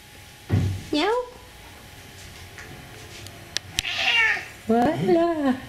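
A cat meows several times, drawn-out and wavering, with a sharp click in between and a run of louder meows toward the end.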